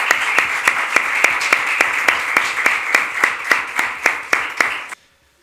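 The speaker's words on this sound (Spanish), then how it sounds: "Aplauso, ¿no?" Audience applause at a book fair, a steady wash of many hands clapping with regular sharp accents, fairly close and loud, stopping abruptly near the end.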